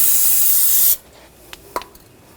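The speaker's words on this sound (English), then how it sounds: "Use a little brake parts cleaner." Brake parts cleaner sprays in one loud, steady aerosol hiss for about a second during rear brake hose work on a 2015-2020 Cadillac Escalade, followed by a few faint taps and clicks.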